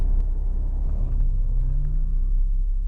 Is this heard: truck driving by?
yes